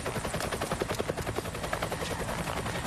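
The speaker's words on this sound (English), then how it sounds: "The helicopters are honing in on them now." Police helicopters in a TV commercial, a steady rapid thudding of rotor blades that stays loud and close throughout with no voices over it.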